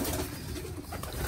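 Stock pigeons coo softly in a loft, low murmuring calls that sit close but faint over a muffled background.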